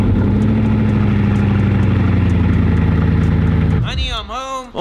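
A Bugatti Chiron hypercar's engine rumbles steadily at close range, a deep sustained idle with a slight rise near the end, as someone talks over it.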